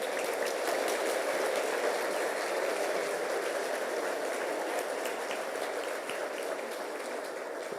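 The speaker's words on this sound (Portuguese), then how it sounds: "Vamos aplaudir Jesus" Church congregation applauding at an Easter service: dense, sustained clapping from a large crowd, steady and fairly loud throughout with no pauses.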